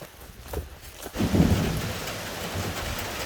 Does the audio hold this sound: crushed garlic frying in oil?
no